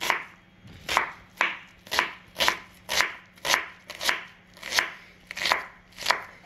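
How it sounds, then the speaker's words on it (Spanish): Green onion being chopped into small dice with a knife, about nine crisp, evenly spaced thwacks on a cutting board, close and clear with no talking. "Vamos a cortarla a cuadrito muy pequeño"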